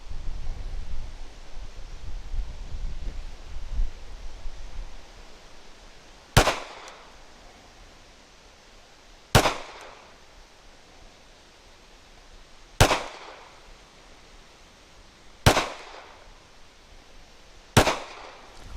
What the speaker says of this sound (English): So 5 shots into the number 8 offhand.